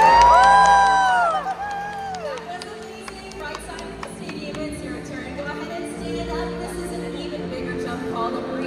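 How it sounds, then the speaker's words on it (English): Audience cheering and whooping in the stands at a SeaWorld orca show during the 60th anniversary Orca Encounter, a loud burst at the start with whistle-like tones, then a steady crowd roar that lingers underneath. "so let's give him a great big cheer!"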